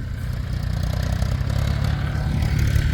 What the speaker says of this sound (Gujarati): એક ટ્રેક્ટર આવે એક જાય.